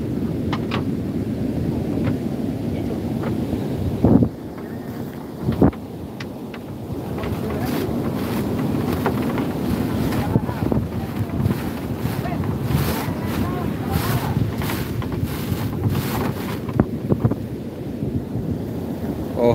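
A fishing boat rides in through wild surf toward the beach to run aground, its hull and engine blending into steady crashing waves and gusty wind buffeting the microphone, with a few sharp thumps along the way.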